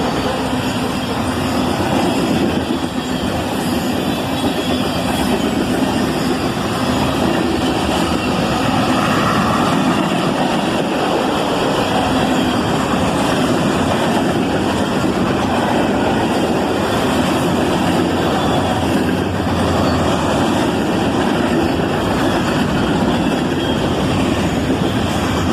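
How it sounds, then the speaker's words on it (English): Manifest freight train Q509, led by an SD40-3 square-cab rebuild locomotive originally built as an SD40-2 for the Louisville and Nashville, rolls past with a loud, continuous rumble and rattle of cars that stays steady throughout. "A manifest train, Q509, led by an SD40-3 square cab rebuild, originally built as an SD40-2 for the Louisville and Nashville"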